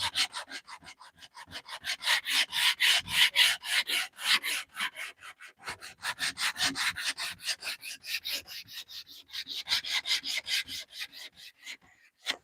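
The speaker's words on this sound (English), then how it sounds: "Now we needed to sand this top anyway, so happy to do it that way." Hand sanding a wooden box top with 80 grit sandpaper: rapid, even back-and-forth rasping strokes, close and steady, with a couple of brief pauses and no talking.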